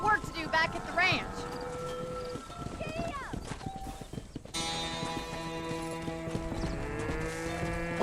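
Cattle low in the Red Dead Redemption video game on a ranch, drawn-out moos mixed with horse hooves clip-clopping, while a person talks over parts of it.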